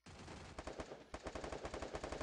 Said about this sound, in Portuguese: Costa, atira nas costas dele aí